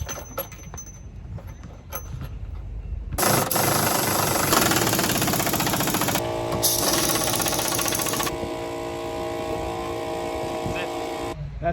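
A power tool whirs loudly for several seconds in continuous bursts while loosening the bolts on a Reese GooseBox hitch, after a few faint clicks and taps, with a brief pitch change partway through.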